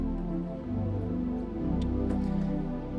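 A heavy Big Pad synth patch on a Yamaha YC stage keyboard plays thick, sustained chords with shifting low harmonies, a steady and full wash of tone with no voices.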